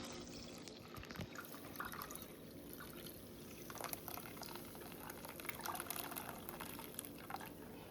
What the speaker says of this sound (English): Just put it in my jar and pour my milk in.